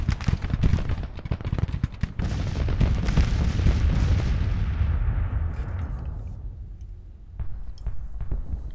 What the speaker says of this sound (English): We'll just let the cavalry get in there and at least get their shots in.